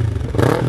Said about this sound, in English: you could rev bomb all you want, which it sounds like this for me and my bike